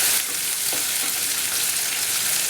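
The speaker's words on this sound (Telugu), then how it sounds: "ఈ ఉల్లిపాయ ముక్కలు పచ్చివాసన పోయేంత వరకు వేయించుకోవాలి." Onion pieces fry steadily in hot oil, a continuous bright sizzle heard up close with no talking.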